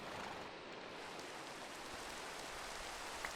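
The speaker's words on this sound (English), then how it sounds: "So we can sleep through rain like this." Rain falls steadily in a Minecraft world, a soft even hiss of drops with no breaks, faint and continuous, heard alone without talk.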